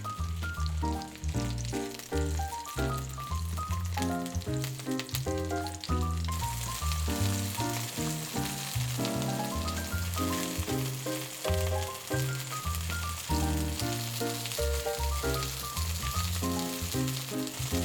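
Chicken breast sizzling steadily in a hot pan, a constant frying hiss running under continuous background music.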